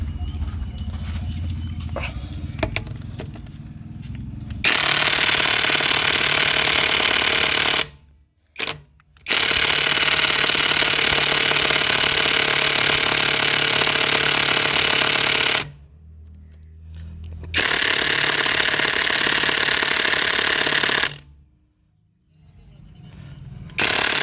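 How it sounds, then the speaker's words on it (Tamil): An Ingco impact wrench loosens wheel bolts on a car, its loud continuous hammering rattle running in several long bursts separated by short pauses and quieter gaps. "வீல் போல்ட் லூஸ் பண்ணி பார்க்கலாம்."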